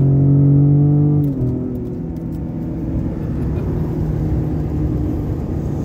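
A Ford Raptor with a 3.5-liter turbocharged V6 accelerates hard, a loud engine roar and rising whine at first, settling into a rushing rumble of road and wind noise from inside the cabin.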